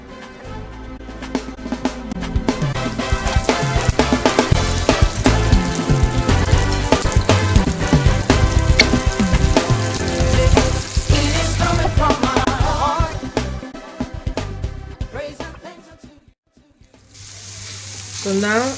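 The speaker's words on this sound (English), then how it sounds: "put some oil in a pan, and that should be heated enough now, and I'll just add some onions into" Onions hitting hot oil in a pan for Nigerian fried rice, a loud steady sizzle and crackle that runs throughout, dipping briefly near the end before picking up again.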